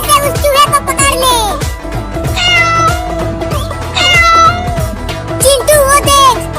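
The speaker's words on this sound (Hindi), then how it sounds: "वो बिल्ली उस चूहे को खाने के लिए पकड़ रही है" A cartoon cat meows repeatedly while stalking a mouse, its loud, drawn-out calls rising over background music and a voice.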